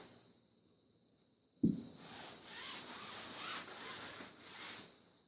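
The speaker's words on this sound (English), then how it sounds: "We're going to scrub it both sides." A strip washer scrubs back and forth over a window screen laid on a towel, giving a steady close rubbing and swishing sound after a short quiet start.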